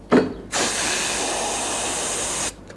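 A voice mimics all three doors of a trolleybus opening together, giving a brief puff followed by a steady, loud hiss that holds for about two seconds before cutting off abruptly, with no talking.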